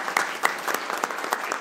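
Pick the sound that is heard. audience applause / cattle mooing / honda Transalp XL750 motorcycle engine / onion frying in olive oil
audience applause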